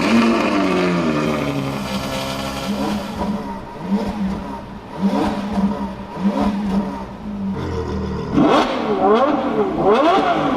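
Ferrari F12 TDF V12 fitted with a full Novitec decatted race exhaust and catless downpipes, revving hard with raw rising and falling engine tones, loud and close, including sharp blips toward the end.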